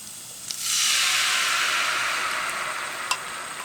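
Garlic and shallots fried in a pan sizzle loudly with a steady bright hiss as they are stirred, with a couple of small clinks of the utensil against the pan.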